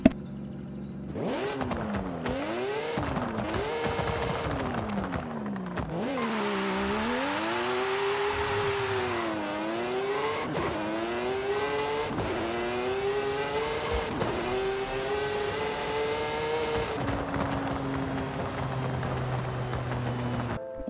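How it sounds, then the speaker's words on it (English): A Formula Drift Mazda RX-8 with a three-rotor turbo engine and hood-mounted exhaust in Forza Horizon 5 revs repeatedly, its pitch sweeping up and down through gear changes and throttle blips, loud and close. "Now, this thing is interesting because it has a 3-rotor turbo engine."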